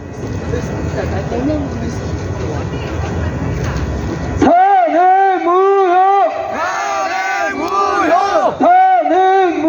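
A street rally crowd in Busan first roars in a dense wash of voices, then chants a short slogan in loud rhythmic unison, repeated several times through amplification.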